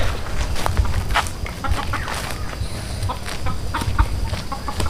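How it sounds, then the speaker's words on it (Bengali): Chickens cluck and squawk in sharp, irregular bursts as a hen is chased along a road outdoors. The calls are loud and close, and there is no talk. "কিরে মুরগি ধরতে রাস্তায় ভাই এটা কেমন দৌড়ায়"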